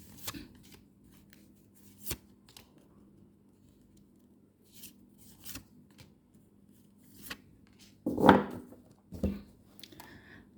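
Tarot cards are shuffled in short, crisp riffling bursts scattered across a quiet room, with a louder flurry of card handling near the end and no talk.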